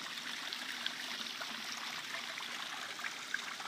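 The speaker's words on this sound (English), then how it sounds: "beautiful waterfall" Water trickles steadily over a garden waterfall built in a front yard, falling past flagstone benches in an even, continuous splashing wash heard close and alone.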